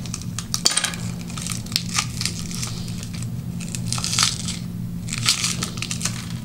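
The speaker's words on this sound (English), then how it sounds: "I'm gonna have to snap it back on" A plastic jack-shaped ice mold being pressed and snapped back into place, with repeated crinkling, crunching plastic clicks close up and no talking.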